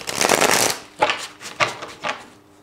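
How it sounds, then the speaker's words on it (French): Tarot cards being shuffled for a reading: one long rustling riffle, then three shorter quick bursts of cards slapping together, close and crisp with quiet gaps between. "Un petit tirage de tarot pour les Capricornes."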